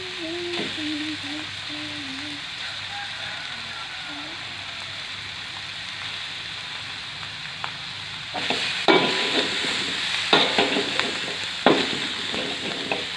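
Two tablespoons of seasoning oil for Aceh-style instant noodles sizzle and crackle steadily in a hot pan, with sharper bursts of frying and stirring noises growing louder toward the end.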